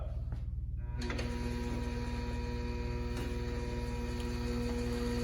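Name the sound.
Comfort Nest system running forwards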